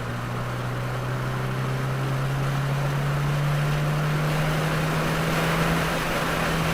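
A 2022 Subaru WRX engine pulls at full throttle on the Waterford Hills race track, a loud, continuous, rising drone heard from inside the car with steady wind and road roar.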